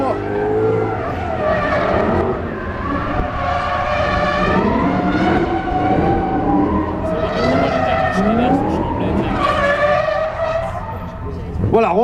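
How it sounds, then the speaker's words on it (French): Falken drift car engines scream at high revs at a motor show, pitches rising and falling as they rev, with tire squeal and a voice talking over the din. "Ces moteurs hurlants montent très haut dans les tours."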